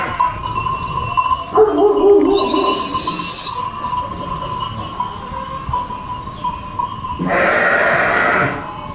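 Sheep bleat on a farm after a muddy rain, with a couple of clear calls near and moderately loud over a steady background hum, one early and one longer toward the end.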